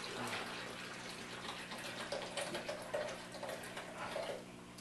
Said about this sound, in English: Put your water in it.